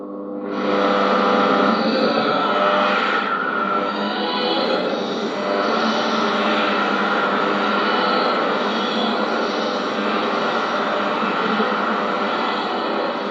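A thick, eerie wash of reverberant sound swells in and holds steady, smeared and ghostly with a long echoing tail, loud and continuous throughout.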